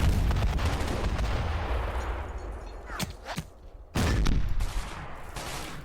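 Mortar and return fire in the Panzer Campaigns wargame, heavy rumbling bursts of gunfire and explosions rolling continuously, fading briefly before another loud burst.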